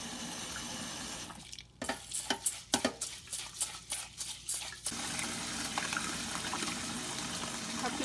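Long grain rice stirred and rinsed by hand in water, giving close, rhythmic swishing and sloshing pulses for a few seconds, set between stretches of steady running tap water.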